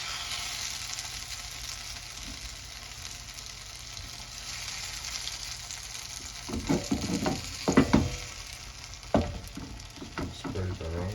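Mushrooms are spread over eggs in a hot frying pan for a vegetable omelette, giving a steady close sizzle broken by a few scraping stirs and louder spattering bursts near the end.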